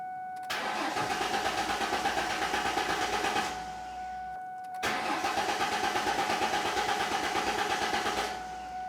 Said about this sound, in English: turn the key, and I want to start it.